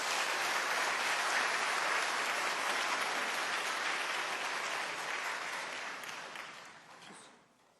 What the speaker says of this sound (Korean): 우리 큰 박수로 목사님을 맞이해 주시기 바랍니다.